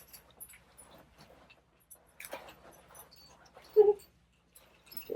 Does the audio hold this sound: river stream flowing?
no